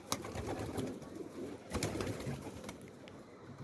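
Pigeons coo softly and fairly far off, a faint, low murmur broken by a few sharp clicks and rustles.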